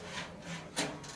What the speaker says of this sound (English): Gonna pull that little drawer out.